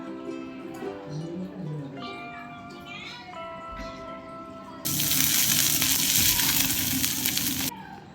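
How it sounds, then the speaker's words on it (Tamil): Onions sauté in oil in a pan until browning, breaking into a loud, steady sizzling hiss for about three seconds after a stretch of voices, then cutting off. "வெங்காயத்தை நம்ம நல்லா வந்து வதக்கி எடுத்துக்கலாம்"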